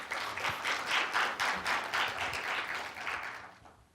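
Audience applause welcoming a speaker to the stage at a Korean news big-data startup event, a few seconds of steady crowd clapping at moderate distance that fades out at the end.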